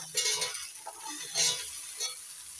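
Moringa drumsticks, bitter gourd and potatoes coated in chili paste stirred in a frying pan: a close, continuous hiss of frying with uneven scraping pushes of the spatula.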